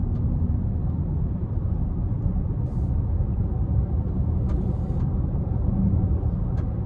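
A 2024 Chevrolet Blazer Premier AWD with a 3.6 V6 cruises along a back road, its engine and road rumble forming a steady low drone from inside the cabin, with a few faint brief clicks and no talking.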